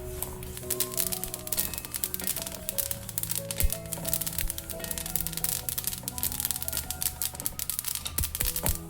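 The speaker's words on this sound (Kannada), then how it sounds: "ಮೀಡಿಯಮ್ ಫ್ಲೇಮಲ್ಲಿ ಇಟ್ಕೊಂಡು ಇದನ್ನು ಕೂಡ ನಾವು ಜೀರಿಗೆ ಎಲ್ಲ ಹೆಂಗೆ ಹುರ್ಕೊಂಡ್ವಿ ಅದೇ ಥರ ಹುರ್ಕೊಳ್ಳೋಣ." Sesame seeds roast in a pan over a medium flame, giving a dense, continuous crackling and popping that stays close and busy throughout, with no voices over it.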